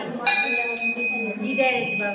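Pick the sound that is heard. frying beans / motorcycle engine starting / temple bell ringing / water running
temple bell ringing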